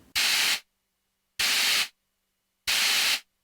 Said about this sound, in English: And pressing noise will sound the noise oscillator.